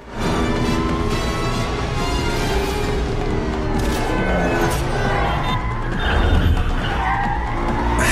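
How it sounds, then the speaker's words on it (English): Cars skid and screech through the chase scene in The Matrix Reloaded, loud continuous tire squeals layered with engine roar and thuds of impact. "it contains, for me, the best car chase sequence of all time"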